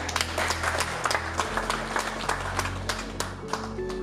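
Guests clap at a Burundian traditional wedding, a dense patter of hands running steadily beneath loud music with a droning bass.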